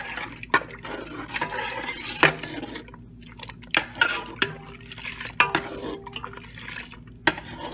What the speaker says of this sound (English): now we are just going to mix this in really well